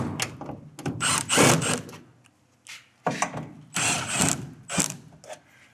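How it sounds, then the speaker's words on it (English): An impact driver fitted with a 5/16 socket backs cladding screws out of a roof cap in loud close bursts of whirring and rattling hammering, separated by short pauses. "I'm actually going to go back to my impact with my 5/16 socket. And I'm going to pull these cladding screws off of the roof cap."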